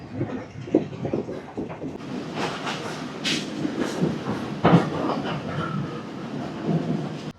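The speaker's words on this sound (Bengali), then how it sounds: "ট্রেনটা এখন কি সুন্দর ঘুরছে।" A train travels along a curve near Sialangamua railway station, wheels giving a steady rumbling clatter with rhythmic clicks and occasional louder knocks, heard from on board at fairly close range and without talk.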